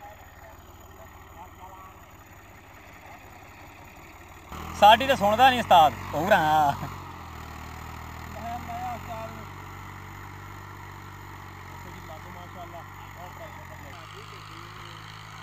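A Fiat 480 tractor engine idles with a low, steady rumble throughout, while a voice talks loudly over it partway through.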